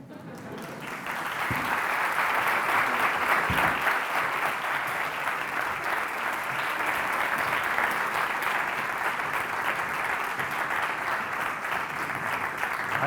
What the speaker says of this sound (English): it also gives you the opportunity to welcome and applaud them even before they've spoken